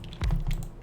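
Dusty old wired computer keyboard, a short, close burst of a few keystrokes tapped in quick succession.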